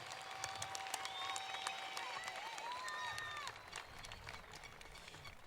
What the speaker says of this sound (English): please give a final round of applause to the recipients of our